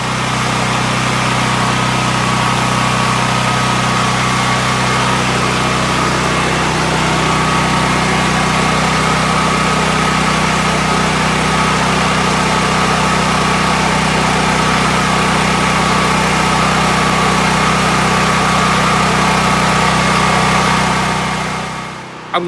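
A Predator 9000-watt portable generator runs steadily at idle, its loud, constant engine drone and low mechanical hum continuing unchanged until it cuts off abruptly at the very end.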